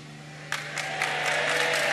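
A large crowd at an outdoor Mass in a cathedral square during World Youth Day Madrid 2011 breaks into applause, a sudden swell of clapping that builds and holds as a dense, distant-sounding roar.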